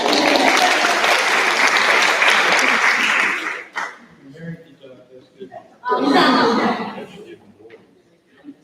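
A crowd at an all-school reunion breaks into loud, full applause that fades out. Brief talk and a chuckle follow, then a second shorter burst of clapping that tapers off.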